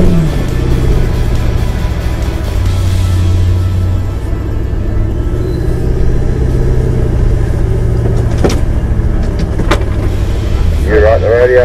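A 4WD truck climbs a slope during an off-road weekend, its engine holding a steady loud rumble throughout, with a few brief sharp knocks near the end and talk over the top.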